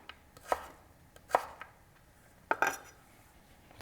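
A knife cuts potatoes into small dice on a cutting board, with about five sharp, close chops in an uneven rhythm and near silence between them.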